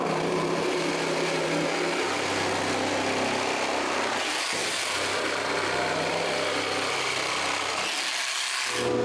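A power tool cuts a wooden board into small pieces, a loud continuous rasping, grinding drone with brief dips where the blade pauses between cuts.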